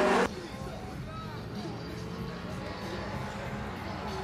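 A BMW and an Opel Manta 2.5 race side by side at a car meet in Bemowo, Warsaw, their engines droning steadily at a distance under a noisy crowd, with a loud burst of voices at the start.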